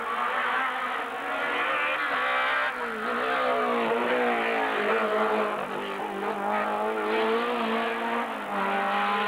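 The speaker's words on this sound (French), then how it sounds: "Avec quelques pétarades de la part du moteur de la GT Turbo." A GT Turbo race car at the 1995 Hébécrevon hillclimb passes with a strong engine note that rises and falls. A few sharp pops from the engine break through, and no one speaks.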